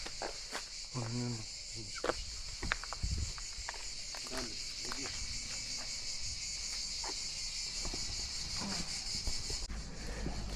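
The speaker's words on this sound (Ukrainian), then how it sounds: "Цикади такі голосні в нас тут, так?" A steady, loud high-pitched buzzing of cicadas fills the air throughout, with scattered clicks and rustling footsteps underneath, on a forest path to a beach.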